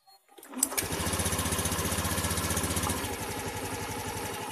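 A Honda Beat injection scooter engine starts and settles into a steady, close, rapidly pulsing idle with an even putter, with no talking.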